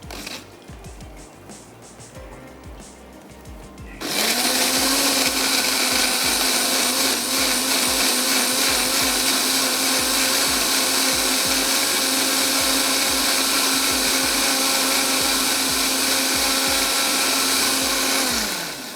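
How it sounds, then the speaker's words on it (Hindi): A kitchen blender whirs loudly and steadily, blending ingredients for a chicken kofta curry. It starts abruptly after a few seconds of quieter handling noise and then runs continuously at full power until the end. "तो चलें ब्लेंड कर लेते हैं"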